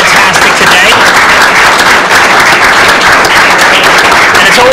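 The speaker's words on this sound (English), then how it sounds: "let's give a round of applause" An audience at a political forum held in a public library breaks into loud, sustained applause, a dense unbroken roar of clapping that stays close and even throughout.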